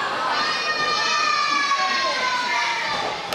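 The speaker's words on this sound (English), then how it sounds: "Yeah, this crowd definitely going crazy here." A packed wrestling crowd at an Elite Wrestling event roars steadily and loudly, with whistles and high shouts riding over a dense wall of cheering that stays constant throughout.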